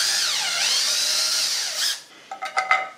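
A handheld power drill fitted with a 7/16 inch bit spins up to a steady whine that sags and recovers for about two seconds, then stops, followed by a few short bursts and clicks as it is handled, during a DIY van solar shower build.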